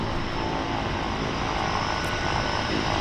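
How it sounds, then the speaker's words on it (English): A floatplane inbound from Nanaimo drones with a steady propeller engine at a Vancouver float base, a continuous loud hum with no pauses. "This aircraft must have left Nanaimo half an hour ago."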